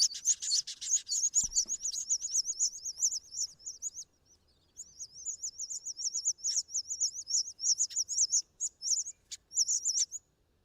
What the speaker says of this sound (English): Now I think that's feeding young birds.